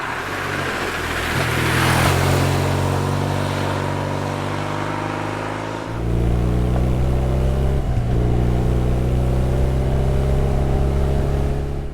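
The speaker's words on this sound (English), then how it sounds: "A unique trait of the Boxer engine is that it has a slight rocking effect at idle" A BMW R 12 NineT boxer-twin motorcycle engine idles steadily with a low, throbbing pulse, shifting pitch briefly partway through before settling back into a steady rumble, close by.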